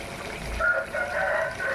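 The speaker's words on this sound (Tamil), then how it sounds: "நாட்டுக்கோழி" A country rooster crows once, nearby and clear, its call rising and sustained over a soft background.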